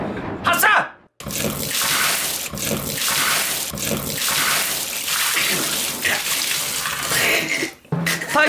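Water pours and splashes heavily from a bucket in several surging gushes, loud and close, with brief pauses between dumps.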